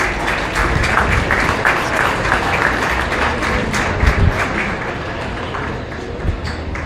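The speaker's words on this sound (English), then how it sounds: "Let's go ahead and give them a round of applause," A crowd at a county fair cattle show applauds a group of calves, steady mid-level clapping that holds for about seven seconds with a few louder thumps near the end.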